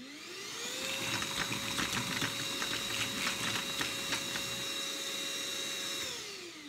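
A Lidl Parkside PNTSA 20-Li A1 cordless 20 V vacuum cleaner runs steadily with a high motor whine, spinning up and winding down, while small wooden pieces about 2 cm across rattle and tick as they are sucked in.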